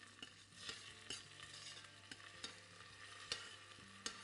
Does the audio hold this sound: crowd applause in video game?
no